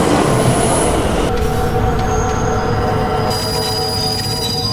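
A train running on rails in a film scene, with loud, constant wheel squeal and metallic screeching over a rumbling roll that fills the whole stretch with no talking.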